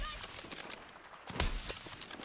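Gunfire in the Battlefield RedSec video game: quiet, scattered bursts of shots at a distance, with a louder crack near the middle, heard over faint game ambience.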